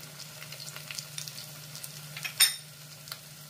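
Cumin spice paste frying in a pan for a spicy Bengali mutton curry: a faint, steady sizzle with light scraping and one brief clatter of a utensil partway through.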